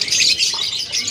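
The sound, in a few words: birds chirping at Yogyakarta animal market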